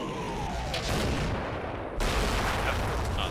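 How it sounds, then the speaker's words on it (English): Artillery fire in the war game Combat Mission Black Sea, a dense, continuous rumble of distant blasts and crackle with a swelling burst midway, steady and loud with no talk. "Artillery, artillery, artillery."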